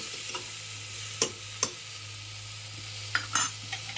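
Raw mango pieces frying in a tempering pan with oil, salt, turmeric and asafoetida, a soft steady sizzle at moderate level broken by a few sharp clicks of a spoon stirring against the pan, no voices.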